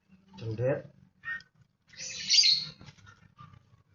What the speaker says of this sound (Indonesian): Ini burung cendet